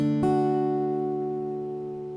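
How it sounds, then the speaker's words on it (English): A single major chord sounds once on a sustained, piano-like instrument, struck cleanly and left to ring and slowly decay, alone. "Major sounds like this."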